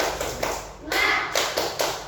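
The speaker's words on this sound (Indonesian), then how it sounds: "kita tepuk semangat dulu" A primary school class claps out a rhythmic spirit clap in a classroom, a series of sharp, evenly spaced claps that ring out loud and close.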